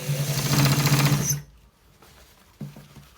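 An electric sewing machine stitches a designer collar shirt in a fast, buzzing run of needle strokes that stops abruptly, followed by a short quiet and a brief restart.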